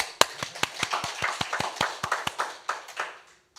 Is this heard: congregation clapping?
yes